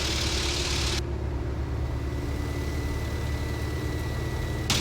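A Beechcraft Staggerwing's engine climbing after gear retraction, a loud, steady drone heard from inside the aircraft, constant throughout without breaks or talking.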